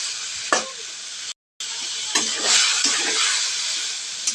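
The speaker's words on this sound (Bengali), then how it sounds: "এখন আমরা এটাকে ভালো করে নেড়ে মিশিয়ে নেব" Potatoes and eggs sizzle loudly in a pan while a spoon stirs and scrapes them, with a short silent break early on and steady frying hiss throughout.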